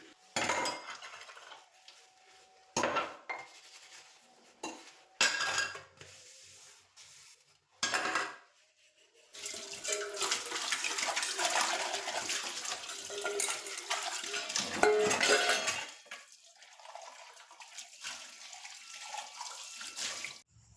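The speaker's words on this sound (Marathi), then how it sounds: "इथं पहिले भांडे घासून घेत असते" Pots and utensils scrubbed by hand at a kitchen sink on a winter morning: sharp, close clattering bursts of metal vessels, then a long stretch of running tap water mixed with clinks and scrubbing. No one speaks.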